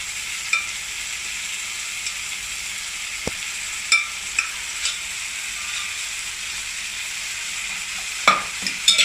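Chicken and vegetables for spicy chicken pasta sizzle steadily in a frying pan, with a few sharp utensil clicks and scrapes as the mixture is stirred, loud and close with no talking.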